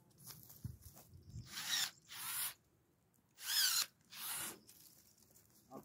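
Battery-powered electric pruning shears snip young shoots on fruit trees, giving four quiet, separate whirring bursts of the motor with pauses in between.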